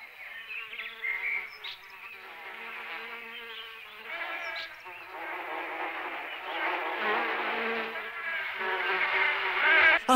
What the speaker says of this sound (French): Tiens, regarde toutes ces abeilles.